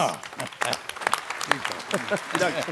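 Audience applause at a Dutch theatre show, scattered claps mixed with voices and chatter, moderately loud and close, over a short burst.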